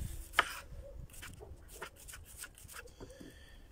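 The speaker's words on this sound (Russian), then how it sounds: "После чего нарезаем лук кольцами" A knife slices an onion into rings while a burger is cooked over an open fire in a village, giving a few irregular, soft cutting taps close by.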